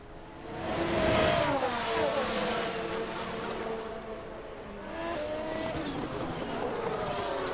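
Formula 1 cars racing and overtaking at the Singapore Grand Prix in F1 Manager 22, a steady engine drone with rising and falling whines as the cars pass, continuous and fairly loud.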